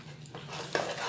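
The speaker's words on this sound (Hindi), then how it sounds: "पॉपकॉर्न इसमें डालेंगे थोड़ा थोड़ा करके और उसे अच्छे से मिक्स करेंगे" Popcorn being stirred into jaggery caramel in a pan, with a soft, close scraping and rustling of the spoon against the coated kernels over a low sizzle, faint and continuous with no voices.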